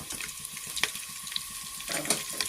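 Curry leaves and cumin seeds frying in oil in a pan for a sweet pumpkin palya, a steady close crackling sizzle with a few sharper pops and a louder burst near the end, no voices.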